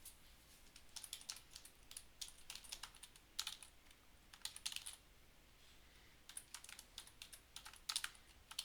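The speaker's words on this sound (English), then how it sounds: "I'm typing." Rapid bursts of typing on a computer keyboard while entering a chat message, close and fairly quiet, with short pauses between runs of keystrokes and no talking.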